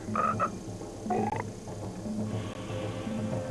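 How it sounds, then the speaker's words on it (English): A green tree frog croaks in short, bright bursts, two clear calls over a steady low background hum, fairly close and moderately loud. "Even if you're a green tree frog."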